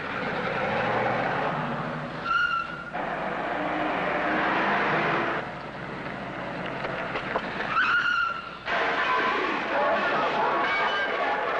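An old car rumbles as it pulls out of parking space number 9, its engine noise running steadily under spoken dialogue, with brief squealing, scraping accents.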